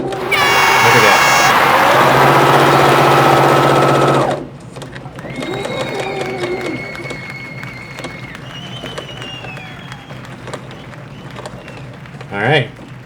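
A Janome sewing machine with a leveling foot stitching through fabric folded over several times, a loud steady whirring run that stops after about four seconds. Quieter room sounds and faint voices follow.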